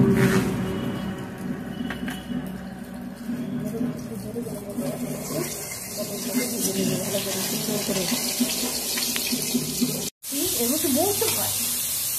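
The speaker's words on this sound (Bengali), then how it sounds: "আমি এখন পটল ভাজছি।" Pointed gourd (potol) frying in hot oil in a pan: a continuous even hiss of sizzling that runs the whole time, with a brief murmur of a voice near the end.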